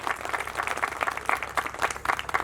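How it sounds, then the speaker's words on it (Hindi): Audience applause at a school function in Sirsa: a brief burst of lively, uneven clapping from a modest crowd, fairly close and mid-level in volume. "कृपया जोरदार तालियां संजीव जैन के लिए।"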